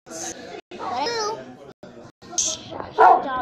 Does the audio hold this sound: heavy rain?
no